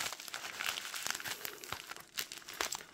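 Packaging being cut and torn open around a stack of silver bullion from Monument Metals, with close, irregular crinkling, tearing and crunching of wrap and cardboard continuing throughout.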